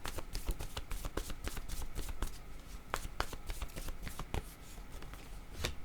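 Oracle cards handled and drawn with a fast, close run of crisp riffling and snapping card flicks that keeps going throughout, with no talk.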